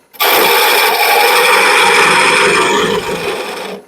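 Wood turning on a lathe with a bedan tool taking a blank down to about half an inch: a loud, steady broadband cutting rasp held for nearly four seconds, easing off slightly at the end, with no talking.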